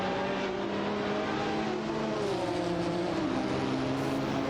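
Racing engines howl in a video game race including a Ferrari F50 GT, a steady loud drone with pitch shifting as cars shift and hold speed, several engines layered together close by.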